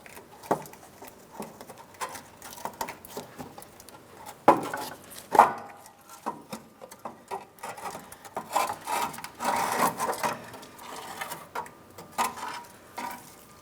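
A crossbeam being pulled down from a 2015-2025 Ford Transit 250 3.7L V6 during radiator replacement, with scattered metallic knocks, scrapes and rubbing clunks, a couple of louder bangs midway, close up and without talk.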